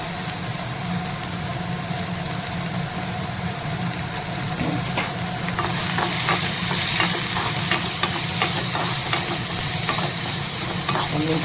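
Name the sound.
onions frying in oil in a pan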